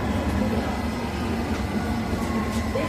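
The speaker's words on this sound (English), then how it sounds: "This is a Hammersmith City Line train to Barclays." A London Underground Hammersmith & City line train runs between stations, heard from inside the carriage as a loud, steady rumble and rattle with faint squeals on top.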